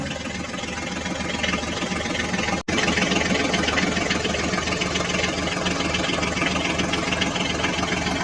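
A toy Ford tractor's small motor runs through mud in a steady, continuous droning whir, close and fairly loud, with one brief dropout partway through and no talking.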